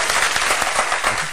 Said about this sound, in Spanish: un aplauso a todos